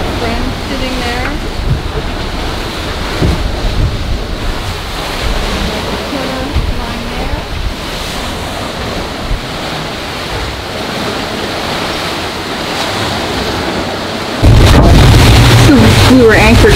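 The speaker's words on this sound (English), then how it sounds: "The seas are still big from all the rolling we had." Big ocean swells and steady wind buffet a sailboat at anchor in the Marquesas after a southern storm, a continuous broadband roar of wind and surf that swells louder near the end.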